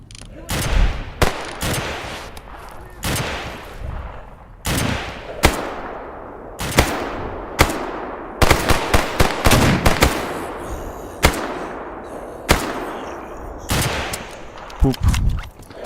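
Rapid bursts of gunfire in S.T.A.L.K.E.R. Anomaly, loud sharp shots and short volleys repeating irregularly across the whole stretch with brief gaps between, some crackling echo trailing each burst.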